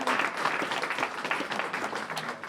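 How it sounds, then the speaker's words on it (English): An audience at a community business and service provider event gives a round of applause, a dense, steady clapping from many hands that carries on throughout. "Let's give everybody a quick round of applause."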